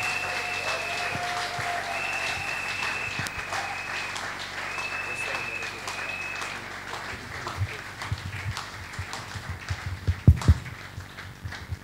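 A church congregation at a worship conference applauds loudly, with steady massed clapping at a moderate distance and a few heavier thumps near the end.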